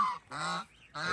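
Turkeys gobble loudly at close range on an early morning in a rural Philippine province, giving three harsh honking bursts separated by brief pauses.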